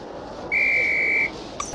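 A referee's whistle in the Harry Potter and the Philosopher's Stone PS1 game gives one steady, loud blast of under a second over quiet background hum, followed by a brief faint chime.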